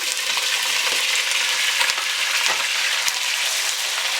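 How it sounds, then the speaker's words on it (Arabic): Meat browning in hot ghee for a meat and onion tagine, giving a loud, steady sizzle with occasional faint stirring taps and no talk. "اول حاجه عندي هعملها هحمر اللحمه في السمنه"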